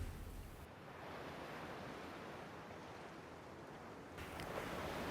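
Ocean waves breaking on a sandy shore, a steady broadband wash of surf that swells near the end, fairly faint and with no voices.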